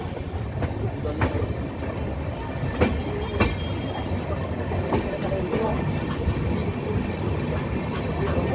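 A coal-loaded goods train rolls past on the rails with a steady low rumble and repeated wheel clicks, loud and continuous throughout, with a voice talking over it.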